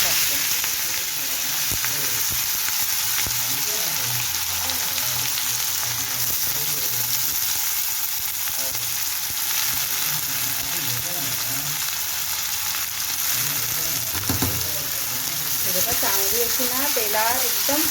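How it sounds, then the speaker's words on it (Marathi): Capsicum frying in hot oil in a kadhai for pav bhaji gives a steady, close sizzle that runs unbroken throughout, with a brief voice near the end. "आणि सिमला मिरची फ्राय करून घेते"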